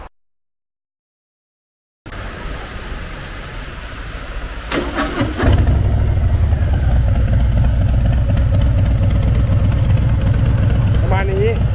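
Harley-Davidson Fat Boy motorcycle with its stock exhaust starts up and settles into a loud, steady, deep idle rumble, with a brief rev flare near the end and no talking over it.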